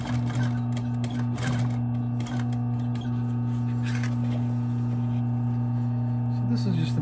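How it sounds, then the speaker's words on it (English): Sewing machine top stitching a restored Supreme varsity jacket, a close, steady mechanical chatter of the needle running over a strong electrical hum. "So, this is just a matter of putting a top stitch."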